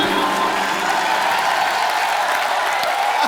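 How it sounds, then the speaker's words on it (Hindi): A TV studio audience at a comedy talk show breaks into loud, sustained applause for guests John and Sonakshi, a dense wash of clapping with some crowd noise throughout. "जॉन और सोनाक्षी के लिए जोरदार तालियां"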